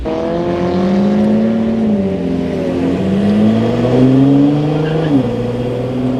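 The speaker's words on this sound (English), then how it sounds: "This guy's trying to race me." A car engine revs hard during a street race near a Paul Walker tribute car meet. The pitch climbs and drops through several gear changes, loud and close, and continues steadily.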